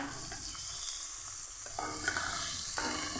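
Garlic paste hits a hot pan while making ghugni, giving a broad steady sizzle with a few scraping stirs of a spoon, fairly close and with no voices.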